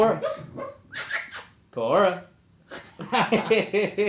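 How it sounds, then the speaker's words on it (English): A sleeping dog makes soft whimpers and muffled yips while dreaming, mixed in with people talking nearby. "My dog's over here dreaming."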